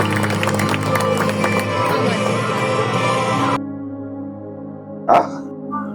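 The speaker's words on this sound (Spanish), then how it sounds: "Regálame un fuerte aplauso al Señor" Applause at a family church service: loud, dense clapping and crowd noise mixed with music fill the first three and a half seconds, then stop abruptly. A quieter sustained tone follows, with one short burst near the end.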